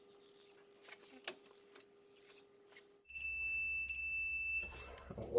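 A digital torque wrench gives a steady electronic beep tone with a high pitch and harmonics for about a second and a half while head studs are torqued on a Ford F150, then another beep follows amid faint workshop clatter.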